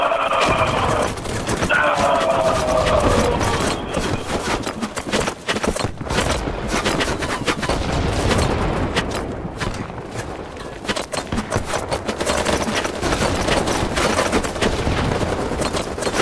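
Dense, loud automatic gunfire from several weapons in the shooter BattleBit Remastered, firing in long overlapping bursts almost without pause, with shouted voices mixed into the chaos.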